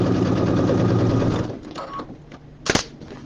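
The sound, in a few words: sewing machine stitching a vinyl project bag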